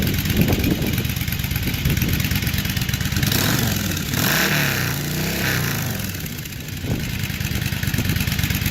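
A loud, raspy exhaust fitted with custom 4-inch mini baffles rumbles steadily at idle close by, with a brief dip and swell in the middle of the run.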